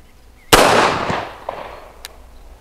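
A single loud, sharp shot from a Grand Power K105 automatic pistol on a range, a sudden crack followed by a long fading echo and a couple of faint knocks afterward.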